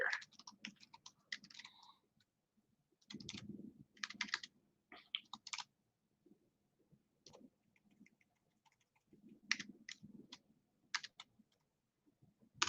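Bursts of quick, light keystrokes tap on a computer keyboard as a search term is entered, close and quiet, separated by short pauses.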